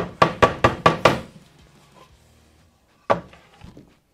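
Five quick, sharp knocks ring out as a wood carving is tapped to shake loose dust, then a pause and one more single knock, all close and clear with no talk.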